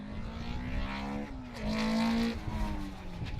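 Sunbeam rally car with new pink wheels racing along a Pendle & District and Garstang & Preston Motor Clubs stage rally, its engine revving loudly and rising in pitch as it passes close by, with brief gear changes and no talk.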